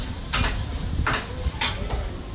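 Metal clatter of a lid going onto a cooking pan while preparing beans poriyal: three sharp clinks spread across the moment, the last the brightest, over a quiet kitchen background.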